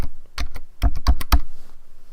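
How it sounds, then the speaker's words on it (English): Computer keyboard typing, a few close sharp clicks, then a quick burst of five or six keystrokes before falling quiet. "Then just type in your username and password that you set up before."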